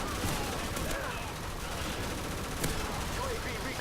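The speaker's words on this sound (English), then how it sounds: "and the Black Ops minigun, which is already in the mod" Sustained automatic fire from the Black Ops Death Dealer minigun in a modded shooter game, a dense continuous rattle that stays steady and loud for the whole stretch with a couple of sharper bursts.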